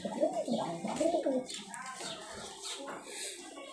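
Male Rajshahi high-flyer pigeon cooing close up, two or three throaty rolling coos near the start followed by softer murmuring and faint rustling.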